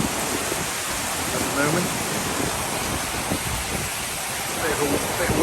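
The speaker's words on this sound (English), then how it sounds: "Bit of wind blowing and the rain tipping down." Wind gusts and heavy rain pour down outdoors in a cold rainstorm, a steady broadband hiss of downpour close by and continuous through the whole stretch, with a voice speaking briefly over it.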